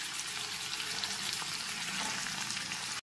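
Cut beans land in a pan of frying vegetables, a steady, moderately loud hiss and crackle of sizzling oil that runs evenly, then cuts off abruptly.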